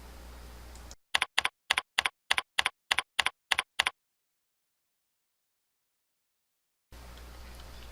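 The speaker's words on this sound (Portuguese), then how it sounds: "Os números se encontram logo acima das teclas de letras e podem ser digitados diretamente." Number keys tapped on a computer keyboard, about eleven quick, evenly spaced clicks in a row, crisp and close, followed by silence, with light room hiss before and after.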